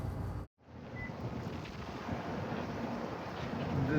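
Strong wind buffets the microphone during a dust storm, a broad roaring rush with one abrupt momentary dropout near the start, then building steadily louder and gustier toward the end.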